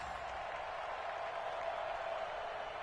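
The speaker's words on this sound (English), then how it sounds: "The crowd here in the Dome making things difficult." Steady, dense roar of a football crowd inside a domed stadium during a goal-line series, loud and continuous throughout without any distinct voices.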